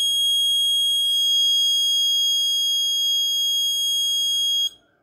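An Arduino medicine reminder alarm buzzer sounds a steady, piercing electronic tone for several seconds before cutting off abruptly, close and loud with no voices.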